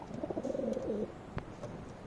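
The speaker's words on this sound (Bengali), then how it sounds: "এটা হচ্ছে মেল কবুতর" A male pigeon coos close by, one low, rolling, throaty call lasting about a second, followed by a brief thump and quiet background.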